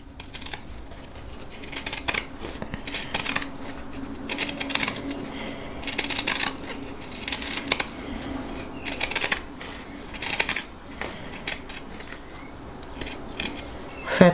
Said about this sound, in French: je prends mes ciseaux cranteurs et je vais enlever l'excédent de tissu de partout où j'ai cousu